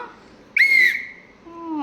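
A small whistle gives one sharp, bright blast of about a third of a second, followed by a fading tail and then a low hum, close by in a quiet room.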